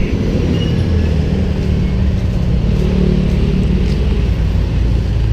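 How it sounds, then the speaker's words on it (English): Heavy lorries rumble past on a street in a Batangas City neighbourhood, a loud continuous low drone of engines and road noise with no voices. "You might not have heard me then with the sound of the lorries"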